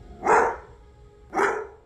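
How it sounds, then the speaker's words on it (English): A pit bull barks twice, loud and close, each bark a sharp aggressive burst about a second apart. "jumping as high as his body is capable of, barking loud with the killer instinct tone in his bark"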